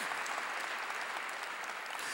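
A church congregation applauds in a steady, dense burst of clapping that fills the whole short stretch at moderate loudness, with no speech over it.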